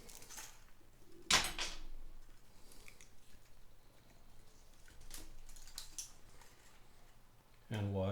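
A single sharp snip as wire cutters clip through a guitar string on a Squier Stratocaster during a bridge rebuild, one bright click near the start over faint room noise, followed by quieter handling sounds.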